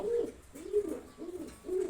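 A racing pigeon coos softly and repeatedly, four low, rolling calls in a steady rhythm, close and fairly quiet.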